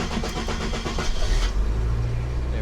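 An old 45-year-old Datsun car engine catching on a carburetor start, with a cranking, sputtering first half giving way to a steady, loud low rumble as it fires and runs.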